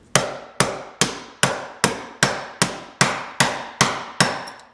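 Ten evenly spaced hammer blows drive a bearing down onto a shaper spindle, each sharp metallic strike fading quickly, close and loud with no voices.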